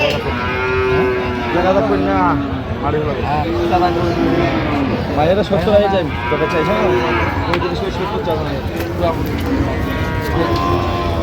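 Sahiwal cattle moo repeatedly at a cattle market in Dinajpur, several overlapping lowing calls close by, with people chattering in the background.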